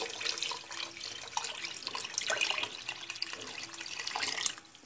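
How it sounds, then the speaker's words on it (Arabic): Water poured into a pot of vegetables for a vegetable soup, a soft, steady splashing trickle close by, fairly quiet and continuous without speech. "مازال هاد الماء كيبان ليا قليل، غادي نزيد شويه"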